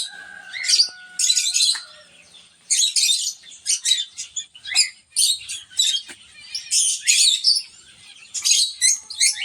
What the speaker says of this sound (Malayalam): ഇപ്പോൾ നമ്മൾ കണ്ടുപിടിക്കുന്ന ജാവ കിളികളാണ് കേട്ടോ